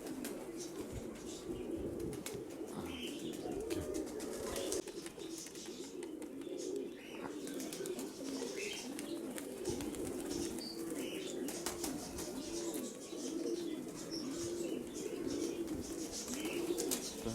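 Pigeons in Mykolaiv coo softly and steadily while feeding, with occasional wing flaps and faint chirps over a continuous low background murmur, at a distance and fairly quiet.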